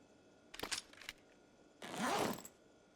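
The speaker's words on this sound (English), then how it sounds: "Go ahead and rack that pistol." A pistol slide is racked in a video game: a quick pair of close mechanical clicks, then a brief sliding rasp after a short pause, with quiet surroundings.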